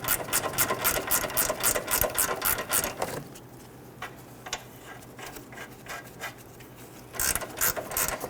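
A power tool drives a nut onto a control arm bolt on a Dodge Charger, with rapid ratcheting bursts, a pause of lighter mechanical clicks, then the driving chatter starting again near the end.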